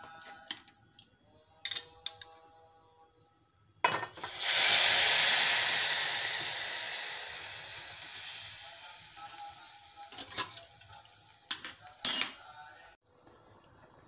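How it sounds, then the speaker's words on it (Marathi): Cooked dal poured into hot tempering in a pot, a sudden loud hissing sizzle that swells then slowly fades, framed by metal spoon clinks and pot knocks before and after. "डाळ शिजलेली आहे ती आता आपण फोडणीला घालूया"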